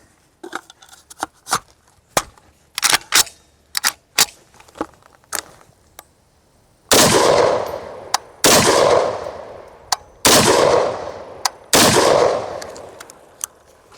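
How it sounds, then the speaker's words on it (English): Four loud, booming shots from a short Wild Geese FAL rifle, each followed by a long echoing tail, come at roughly even intervals after several seconds of sharp metallic clicks and handling noises. "this rifle is really fun to shoot"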